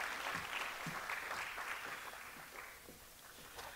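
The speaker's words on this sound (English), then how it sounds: "So let's give Riley a round of applause" A room full of people claps steadily at a school spring sports awards ceremony, a sustained, moderately loud round of applause slowly tapering off.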